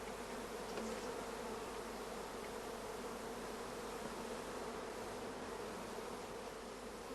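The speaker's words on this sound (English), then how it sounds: "we can hear the loud buzzing of the orphan bees" Queenless honey bees at a hive make a dense, steady buzzing drone that continues evenly throughout, faint overall with no pauses.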